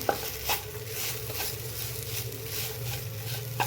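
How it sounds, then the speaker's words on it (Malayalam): A spoon stirring a tomato sauce and chilli sauce mix in a pan while jackfruit seed masala cooks, soft continuous scraping with a faint sizzle and a few light clinks against the pan. "ഇതൊന്ന് ജസ്റ്റ് ഒന്ന് ഞാൻ മിക്സ് ചെയ്യാണ്"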